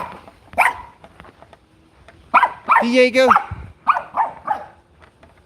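A dog barking indoors in short loud bursts with a drawn-out whining howl in the middle, while a person speaks between the barks.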